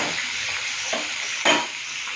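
A fish head and mixed vegetables cook in a new wok as a Bengali chorchori, with a steady close sizzle, a brief stirring scrape and no voices.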